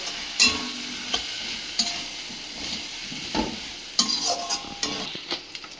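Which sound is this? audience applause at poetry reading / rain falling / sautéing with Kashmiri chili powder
sautéing with Kashmiri chili powder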